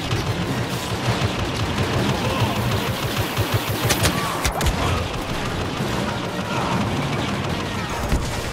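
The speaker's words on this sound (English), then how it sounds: "The walker is exposed." Blaster fire aimed at an AT-AT walker in Star Wars Battlefront's Walker Assault on the forest moon of Endor, with a loud, continuous barrage of rapid shots, scattered booms and crashing impacts throughout.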